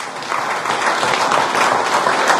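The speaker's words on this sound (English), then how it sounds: "Can we give a round of applause to Professor Nuwagaba?" An audience at a talk on agricultural technology in Uganda gives a round of applause, a brief burst of steady, moderately loud clapping from a room full of people.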